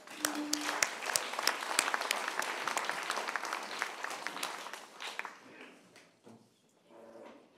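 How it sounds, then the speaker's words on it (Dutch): Warm applause from a live political talk-show audience welcoming a professor onstage, a dense steady clatter of many hands that thins and fades out over the last couple of seconds. "Dames en heren, maak een warm applaus voor professor en geboren Ossenaar Micha de Winter."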